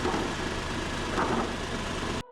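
A Tata Tiago with a BS6 phase 1 engine idles steadily at moderate level, a continuous low hum with faint vibration and no voices, ending abruptly.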